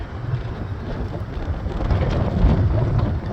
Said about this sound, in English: the wind is extremely strong